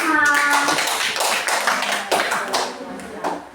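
A classroom of schoolchildren claps for grade 5, a burst of quick, uneven hand claps close by, with children's voices mixed in.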